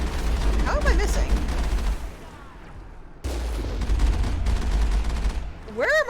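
Rapid bursts of weapon fire in Mass Effect combat, dense and continuous for about two seconds, then resuming after a brief lull, with voices and other game sounds mixed in.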